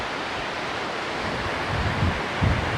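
The Sutlej river rushes fast near Rampur Bushahr in the Himachal hills, a constant broad roaring wash with a few low rumbling swells toward the end and no voices.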